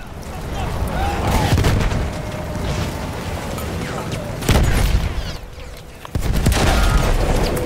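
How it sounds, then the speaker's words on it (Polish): Battlefield 1 battle sounds as a tank is destroyed, with heavy booms and artillery-like blasts in a loud continuous barrage, with sharp jumps in level midway and near the end. "Wybuch. Wybuch. Rozwaliliśmy czołg."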